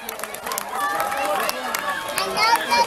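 A crowd cheers racers in during a boat race, a lively mass of shouting and excited voices close by, swelling slightly toward the end with overlapping speech in the mix.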